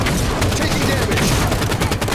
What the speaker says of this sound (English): Elite firing on me.